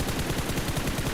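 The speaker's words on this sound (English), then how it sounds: "The shots underneath the buggy will connect and will take Alpha 7 back" Sustained, rapid gunfire in PUBG Mobile as shots are fired under a buggy, a loud, continuous stream of closely spaced reports that lasts the whole moment.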